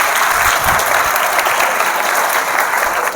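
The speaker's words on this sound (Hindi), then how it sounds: "यश के लिए तालियां होनी चाहिए" Sustained, dense audience applause for a student named Yash at a student motivation program, steady and loud throughout with no talking over it.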